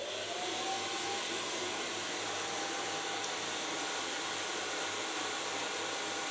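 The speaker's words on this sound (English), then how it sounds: "Gonna blow dry it with a medium brush." A handheld hair dryer blows steadily at close range while hair is styled with a medium round brush during a salon cut and colour, a constant broadband whoosh with no talking.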